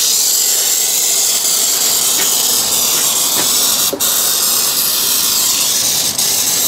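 An aerosol can sprays wax oil onto the brake lines of a Fiat Ducato motorhome van, giving a steady close hiss that runs unbroken throughout with a few faint clicks.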